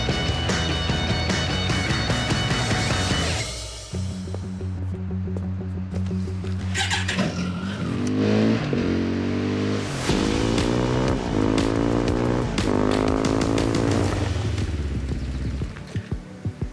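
A test motorcycle's engine runs with a steady low rumble, then revs repeatedly in rising bursts before settling back, loud and close throughout.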